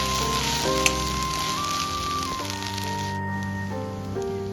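Okra frying in ghee for a buttermilk okra dish, a soft continuous sizzle and crackle like light rain, with faint tonal hums in the background and a single small tap.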